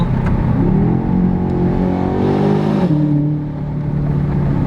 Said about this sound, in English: We still have the V8 grumble that we want to hear.